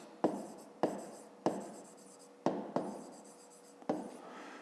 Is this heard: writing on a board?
yes